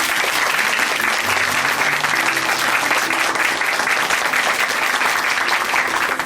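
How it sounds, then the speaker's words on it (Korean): A church congregation at Chuncheon Hanmaum Church applauds steadily and loudly at a testimony program. Dense clapping fills the whole six seconds with no break. "다시 한번 박수 보내드릴게요"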